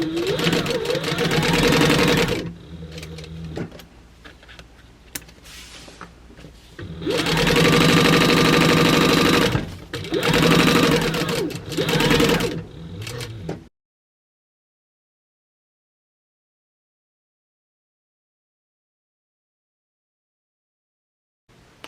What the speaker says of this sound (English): we're going to sew our side panel over